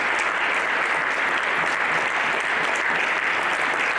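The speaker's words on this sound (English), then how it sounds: "I know the person who started that applause" Steady, dense applause from a Rotary audience fills the whole stretch, sustained and fairly loud without pauses or voices.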